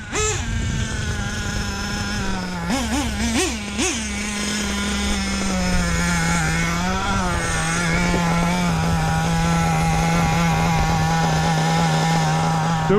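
A Hobao VS2 nitro RC car engine idling steadily and close by, a continuous buzzing drone with a brief blip of revving early on before settling back to an even idle.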